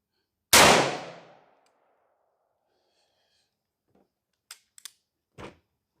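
A single loud, sharp rifle shot fitted with a brass catcher rings out close by and decays over about a second. A few faint clicks and rustles of handling follow.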